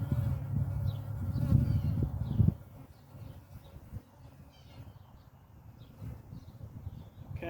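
Honey bees buzz around an opened hive at an inspection in February, with a louder close drone early on that then drops to a softer, steady hum of many bees and occasional faint chirps.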